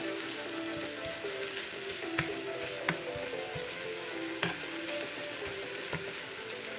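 Beef sizzling and frying in oil in a pan, with the sound running steadily throughout and the pan being stirred, which adds short scraping clicks.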